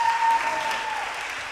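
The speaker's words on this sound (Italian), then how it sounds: "Fate un applauso a Gabri." Applause from a church audience, a short dense burst of clapping that starts loud and fades slightly over a second and a half, with no speech.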